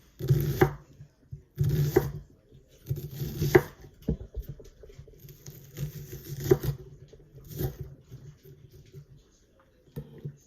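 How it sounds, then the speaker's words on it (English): A knife chops a medium onion for chicken tortilla soup, giving sharp irregular knocks on a cutting board in uneven bursts, close and fairly quiet, with soft handling sounds between the strikes. "And I give it just a rough chop."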